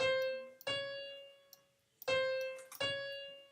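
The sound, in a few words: piano playing a half step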